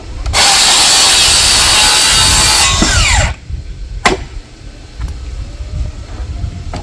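A power saw cuts into a treated wood pole for a retaining wall, a loud steady buzzing whine lasting about three seconds, then stopping with a few clunks and knocks afterward.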